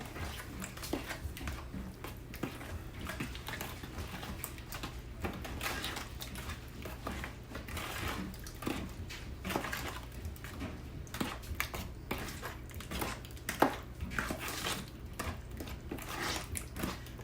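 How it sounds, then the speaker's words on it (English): Peach cobbler mixture is stirred in a dish with a utensil, producing a continuous run of quick light clicks and taps against the dish, close and fairly quiet over a low steady hum. "Then we're going to stir this up."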